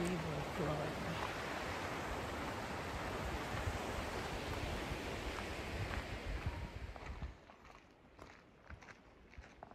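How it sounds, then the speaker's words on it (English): A river flows beside a flat hiking trail in Golden Ears Provincial Park, British Columbia, a faint, steady rushing wash that thins out toward the end. "That's the river flowing."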